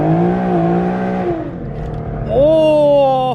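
An Infiniti Q50 on new wheels accelerates hard with wheelspin, the engine droning, dipping briefly, then surging into a louder, rising rev close by.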